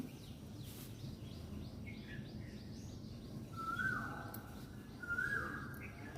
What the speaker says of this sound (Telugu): ఎర్లీ మార్నింగ్ కోయిల్ అరుస్తుంది, సౌండ్ చాలా బాగుంది.